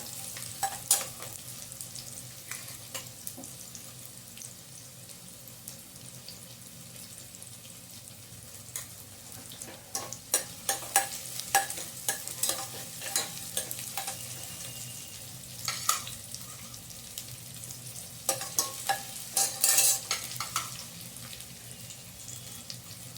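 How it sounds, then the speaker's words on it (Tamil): Onion, garlic and tomato sauté in a pan for a Karnataka-style bisibela bath, giving a steady close sizzle and crackle with intermittent scraping stirs and clatter throughout, with no talking. "ஒரு வெங்காயம் பூண்டு தக்காளி வதங்கட்டும்."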